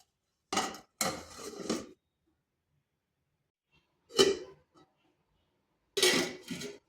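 A pot of semolina sweets soaking in sugar syrup being covered, several short metallic clinks and clatters of pot and lid in separate bursts with quiet gaps between, close by and with no talking.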